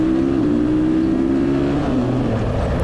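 A supermoto motorcycle on the last lap of a race at Villars-sous-Écot gives a loud, steady engine drone that is held at high revs. The pitch drops slightly partway through, as if the rider is shifting or easing off.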